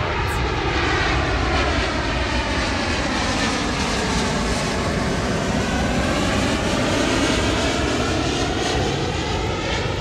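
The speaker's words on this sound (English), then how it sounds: "Oh, you got a huge plane going above us." A large airplane passes overhead outdoors near a parked car, its engines producing a loud, continuous roar that swells and shifts in tone as it moves across, with no talking during the pass.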